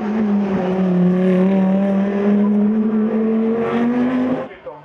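Porsche race cars racing at Zolder circuit in a 2012 Belgian Racing Car Championship round: a loud, close engine drone holds a steady, slowly rising pitch, then cuts away and drops off at the end.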